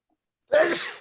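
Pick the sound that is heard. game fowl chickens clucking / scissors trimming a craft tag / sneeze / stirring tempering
sneeze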